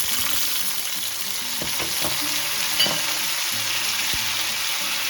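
Browned onions and tomatoes fry in a pan for a dhal with kale, a steady close sizzle running throughout with scattered clicks and scrapes from stirring.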